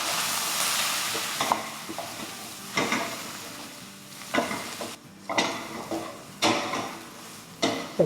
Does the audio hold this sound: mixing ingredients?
yes